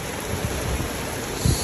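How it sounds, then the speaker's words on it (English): A tropical afternoon rainstorm in Miami makes a steady, dense hiss of rain with a brief low rumble near the end. "every afternoon typhoon that is happening because the rainy season started way later"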